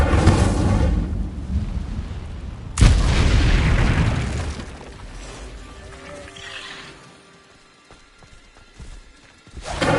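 The Incendio fire spell cast in Hogwarts Legacy, a loud whooshing burst of flame erupting over fading ambience, followed by quieter crackling effects and another burst at the end.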